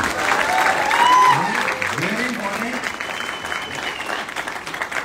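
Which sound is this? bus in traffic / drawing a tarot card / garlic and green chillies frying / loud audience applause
loud audience applause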